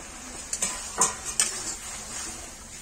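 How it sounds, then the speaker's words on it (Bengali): Fried pointed gourd pieces tipped into a pan with a poppy seed, melon seed and cashew paste, then stirred; a few quick clinks and scrapes of a utensil on the pan over a faint sizzle, close and fairly quiet. "ভেজে রাখা পটলগুলো দিয়ে দিলাম।"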